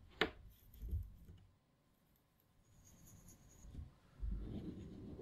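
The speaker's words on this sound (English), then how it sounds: "it's certainly sounding smoother on the paper" A fountain pen with a freshly smoothed nib scratches across paper in two short bursts of quiet, close strokes, separated by a nearly silent pause, with no speech.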